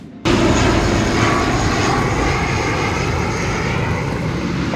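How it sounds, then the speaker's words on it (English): A fixed-wing airplane near an airport roars loudly and steadily, its engine noise starting abruptly and holding as a broad, close, continuous drone with no talk. "there's an airplane either coming in or taking off in just a couple minutes"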